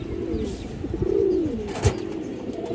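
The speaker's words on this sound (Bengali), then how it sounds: "খুব সুন্দর একটা কবুতর" A pigeon coos in low, rolling phrases close by, with a soft rustle and a brief bump partway through.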